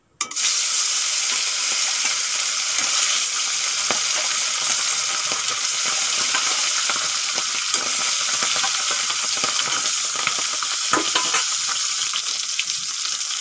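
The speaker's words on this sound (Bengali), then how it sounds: "তেল গরম হয়ে গেছে, এখন মাছগুলো ভেজে নেব।" Tilapia fish fry in hot oil, giving a loud, dense, continuous sizzle that holds steady from start to finish, close up with no talking.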